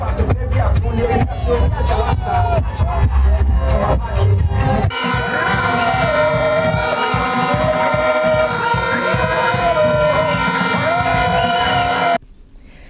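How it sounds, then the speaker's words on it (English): Excited market women at a New Patriotic Party campaign rally, a loud dense crowd cheering and chanting with rhythmic beats, then a steadier sung chant carried over continuous noise until it cuts off near the end. "The market women could not hide the excitement as they danced and chanted party slogans."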